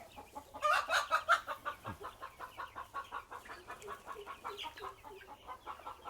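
Twenty-day-old chickens on a poultry farm keep up a steady, rhythmic chorus of clucking and cheeping, moderately close, with no speech.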